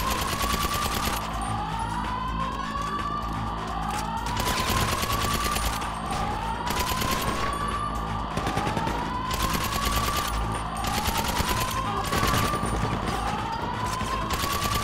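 Rapid automatic gunfire from a Grand Theft Auto heist mission crackles in dense, repeated bursts, with siren-like sweeping tones and a loud, constant din throughout.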